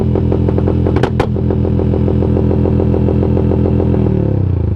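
Simulated engine idle from an Aracer RC Mini X sound module, a loud steady rhythmic chugging pulse like a small motorcycle engine, with a couple of sharp clicks early on.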